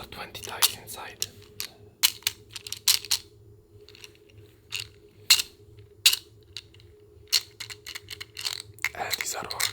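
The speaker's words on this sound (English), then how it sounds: "The next thing is that I got this box of dice." A box holding twenty dice is shaken, giving bursts of sharp clicking and clattering that come in irregular clusters over a low steady hum, close and fairly quiet.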